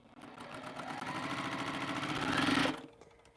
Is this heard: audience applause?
no